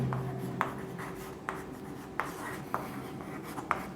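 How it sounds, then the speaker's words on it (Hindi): Chalk or marker strokes scratch across a board while an equation is written out for a physics lesson on magnetic moment, a quiet steady scrape punctuated by several brief sharp taps at irregular intervals, with no voices. "मैं लिख लेता हूं वापस से समीकरण 5 से।"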